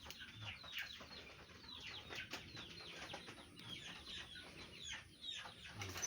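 Chickens cluck and squawk on a farm, several birds calling in overlapping bursts at moderate distance, with faint wing flutters amid steady background noise.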